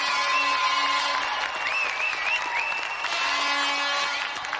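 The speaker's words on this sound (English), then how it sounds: "let's have another round of applause for Andy Thompson and our special guest, Ric" Studio audience applauding on the set of the GamesMaster television game show, a steady broadband wash of clapping that holds at an even level throughout with no talk over it.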